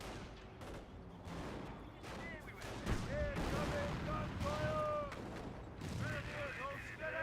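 Rifle grenades and gunfire in Company of Heroes 1, with battlefield shots and blasts crackling densely throughout while a voice talks over the action.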